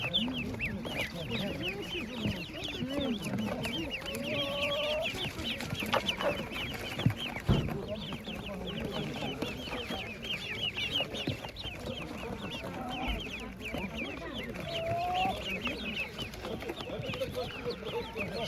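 Chickens cluck and chatter in a busy market, with people talking nearby throughout.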